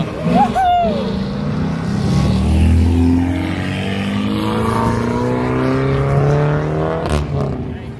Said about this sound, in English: Rev it! It's a GTI.